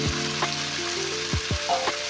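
Mutton frying in a pan, loud steady sizzling broken by several sharp scrapes of a spatula as the meat is stirred.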